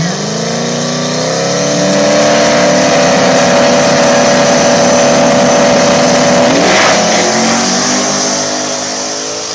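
Loud drag racing cars in the Outlaw 5.30 small tire class roaring as they accelerate hard at Mooresville, pitch climbing steadily before a gear shift, close and sustained over the whole stretch.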